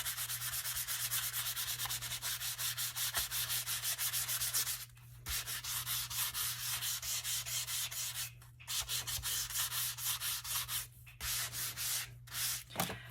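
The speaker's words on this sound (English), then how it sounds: "So I got the stencil, and all I'm going to do is sand." Sandpaper rubbed over a stencil on altered zine pages, a close, rhythmic scratchy rasp of quick back-and-forth strokes broken by a few brief pauses, with no talking.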